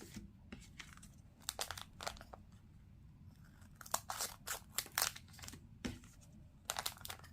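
Cardboard and plastic packaging of a Naruto Little Dino card box being torn and crinkled open, a run of close, irregular rips and rustles, some sharp and loud, with quiet gaps between them.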